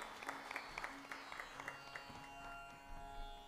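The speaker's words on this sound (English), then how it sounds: "Can we have a huge round of applause to kickstart the day?" Audience clapping at the opening of a news forum, a fairly faint, scattered patter of hands over a steady hum of room sound and tonal background.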